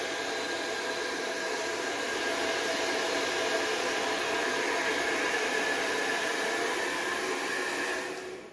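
A hairdryer blows through a funnel and tubing, giving a loud, steady broadband whoosh that holds for several seconds before cutting off at the end.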